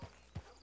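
Hooves of a wild horse in Red Dead Redemption 2, two soft thudding steps about a third of a second apart, faint and close.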